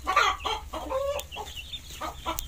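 Marans and Green Shell laying hens, six weeks old and with no rooster among them, cluck in a steady run of short, close calls with no talk over them.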